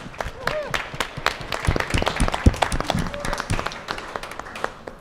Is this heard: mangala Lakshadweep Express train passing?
no